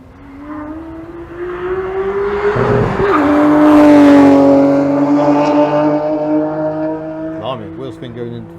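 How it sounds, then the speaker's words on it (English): Car at Goodwood Motor Circuit spinning its wheels on the shift into third, a loud, close engine note climbing and swelling with tyre squeal, then easing away as it passes, with voices talking over it. "Blimey, wheel spin going into third, I think, there."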